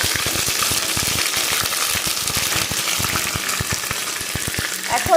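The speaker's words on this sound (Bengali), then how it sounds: "মশলাটা একটু কষিয়ে নেব মশলাটা একটু ভেজে নিয়েছি" Ginger and cumin paste fries in oil over tempered spices for a moong dal with fish head, giving a steady, dense crackling sizzle that runs throughout at an even, fairly loud level.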